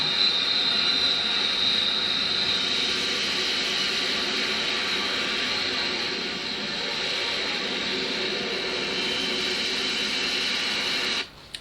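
F-35 fighter jets taking off from the aircraft carrier HMS Queen Elizabeth, a steady loud roaring jet rush filling the whole stretch without letup before cutting off abruptly at the end.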